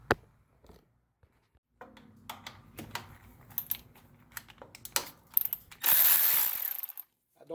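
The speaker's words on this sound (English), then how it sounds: "you loosen this 12mm bolt here" A ratchet loosens a 12mm bolt on a Honda engine, giving quick clicking and rattling strokes close up, with a long louder burst of ratcheting near the end and a few brief quiet stretches.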